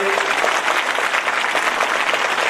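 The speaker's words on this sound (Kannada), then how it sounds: "ಜೋರಾದ ಚಪ್ಪಾಳೆಯೊಂದಿಗೆ ಸ್ವಾಗತ ಮಾಡ್ರಿ" An audience at a gathering breaks into loud, dense applause to welcome a swamiji, a steady wash of many hands clapping throughout.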